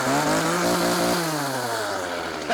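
A chainsaw engine runs steadily after a cold start, a loud, close, continuous buzzing drone that sags slightly in pitch partway through and carries on alone without talk.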